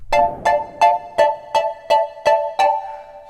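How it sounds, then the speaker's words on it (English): Eight evenly spaced Serum synth plucks with added reverb ring out with a soft tail lingering after each, giving a slightly roomy, spacious feel; no voices. "Let's add a tiny bit of reverb."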